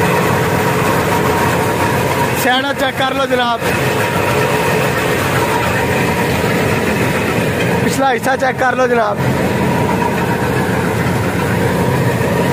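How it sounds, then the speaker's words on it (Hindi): An M132 combine harvester engine in Pakistan runs loud and steady, a constant droning rumble throughout, with someone talking over it in two short bursts. "इंजन स्टार्ट है जनाब"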